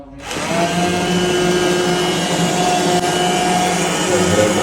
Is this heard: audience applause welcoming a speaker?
no